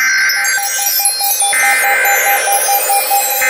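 EAS emergency alert test tone blaring loud and steady with a pulsing, beeping attention pattern, filling the short clip without any voices.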